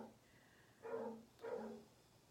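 Two dogs bark in the distance at a neighbour's small dog, giving two separate barks about half a second apart, each followed by a drawn-out tail, with no talking.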